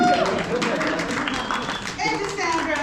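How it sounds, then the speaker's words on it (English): An audience at a Polynesian dance show in a Colorado library claps, a dense patter of many hands that runs under a voice speaking close by. "Let's give a clap."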